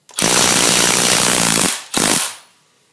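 A Milwaukee M12 compact impact wrench rattles loudly on an 80 ft-lb bolt for about a second and a half, pauses briefly, then fires a second short burst as the bolt breaks free.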